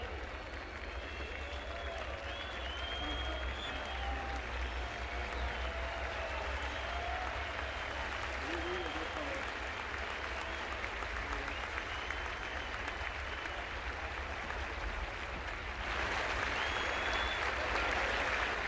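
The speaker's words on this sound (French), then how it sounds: "Cependant qu'une partie du public siffle," Crowd at the 1969 Roland Garros trophy ceremony in Paris, with steady distant applause mixed with whistles from part of the audience, continuous and moderately loud, swelling near the end.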